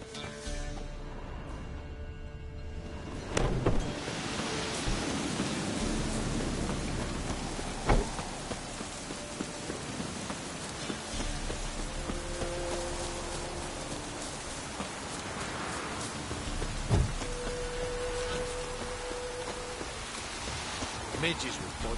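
A heavy downpour in a game set near a cemetery hisses steadily throughout, with low rumbles of thunder rolling underneath and a few sharper cracks standing out over the constant rain.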